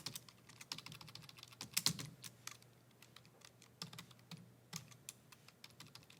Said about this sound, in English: we're just going to start typing stuff in the calculator